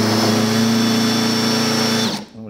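A power drill running a Speed Out PRO screw extractor bit in reverse on a damaged screw whirs steadily at high speed for about two seconds, then winds down and stops.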